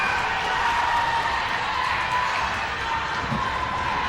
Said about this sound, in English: the crowd is hyped for Canton